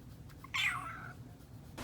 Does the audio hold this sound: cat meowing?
yes